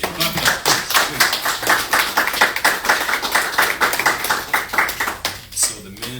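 An audience at a sneaker launch claps along in a steady, rhythmic beat, every hand strike sharp and distinct, holding loud and even for several seconds before it thins out toward the end.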